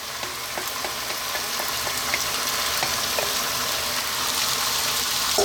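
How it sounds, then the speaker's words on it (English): Two cans of tomatoes added to a hot pan for a vegan sun-dried tomato pasta sauce: a loud, steady frying sizzle with watery bubbling and faint stirring clatter, without speech. "To that, we're going to add 2 cans of tomatoes."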